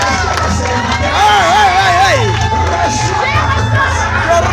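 A church congregation at a Sunday service cheers and shouts together, a loud, dense crowd roar with high voices whooping over it.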